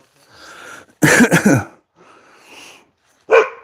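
Dogs bark at a passing cyclist on a bike ride: a loud, close cluster of sharp barks, a quieter stretch, then one more brief bark.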